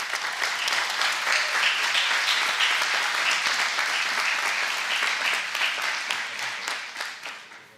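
An audience at a Central American human rights forum claps loudly for several seconds, a dense, sustained applause that tapers off toward the end.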